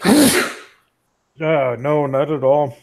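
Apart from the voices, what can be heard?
sneeze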